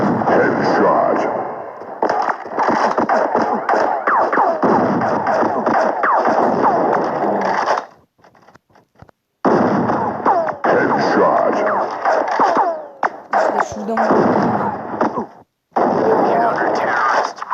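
Gunfire in a shooting video game: dense bursts of rapid shots filling long stretches, broken by brief pauses, loud and close with a few sharper single cracks.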